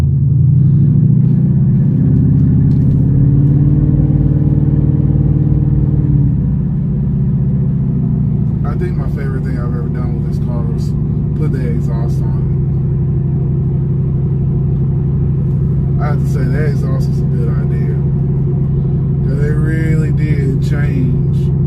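A Ford Mustang engine with an aftermarket exhaust gives a steady, loud low rumble throughout, swelling briefly early on, while someone talks over it.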